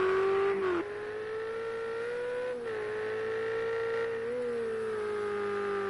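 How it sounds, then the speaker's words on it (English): A Ferrari race car in the racing game Project Cars 2 holds a loud, steady engine drone at high revs, with brief dips where it shifts or lifts before climbing back. "Driving the 55 Ferrari."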